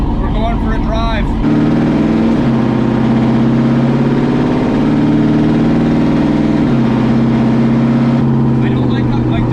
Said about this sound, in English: It could be an exhaust leak.